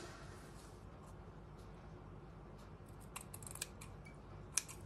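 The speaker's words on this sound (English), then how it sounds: "Oops, finger stuck on the scissors." Scissors cut fabric in a quiet fabric-weaving embroidery setting. Faint, sparse snips and clicks sit over a low hiss, with a sharper snip near the end.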